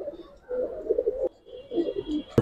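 Old-generation Giribaz coloring pigeons give two bursts of low, rolling coos separated by a short pause, fairly close, ending with a sharp click.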